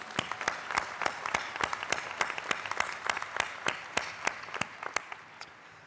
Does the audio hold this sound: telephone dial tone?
no